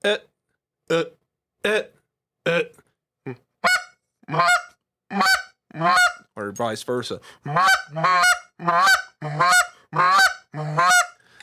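A hand-blown goose call imitates a pair of geese, a long sequence of loud, close, nasal honks in short bursts that speed up into back-and-forth calling, with a few spoken words mixed in.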